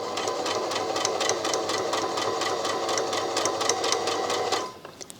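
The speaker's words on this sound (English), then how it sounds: "I can hear the needle making some interesting noises" A Brother My Star 3 sewing machine runs a steady straight stitch, its needle chattering in a fast even rhythm close up for several seconds before the motor winds down and stops near the end.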